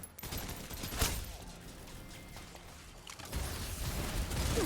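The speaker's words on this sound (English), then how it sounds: "制圧射撃を始める" Sustained fusillade of rapid video-game gunfire, a dense rattling barrage running throughout with a sharp burst near the start and another surge toward the end, over a busy game soundscape.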